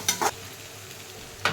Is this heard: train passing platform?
no